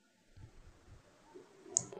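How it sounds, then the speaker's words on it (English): A single sharp key click as the enter key is pressed on a TCS laptop keyboard, a faint brief tap after near silence with soft handling noise. "Click on enter."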